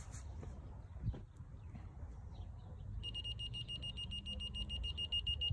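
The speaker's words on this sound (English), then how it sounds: "It's beeping really fast because I was too high." A laser level receiver emits rapid repeated high-pitched beeps, signalling it sits too high, starting partway through over a low background rumble while a backyard gazebo is being built.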